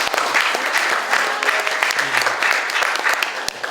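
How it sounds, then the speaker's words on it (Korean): Audience applause welcoming local district council members at a public forum on a railway route, steady clapping from a crowd filling the room, loud and continuous throughout. "예, 박수로 맞아주십시오."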